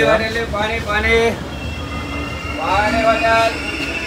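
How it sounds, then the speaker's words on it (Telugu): A passenger train at Kazipet junction gives a steady rolling rumble and rail noise, with voices murmuring in the background throughout. "ఇదే మన ట్రైన్ అనమాట."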